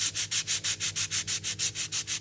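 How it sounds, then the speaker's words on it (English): Hand sanding a wooden coaster, a brisk rhythmic scratching of about a dozen even back-and-forth strokes, close and alone. "sanding."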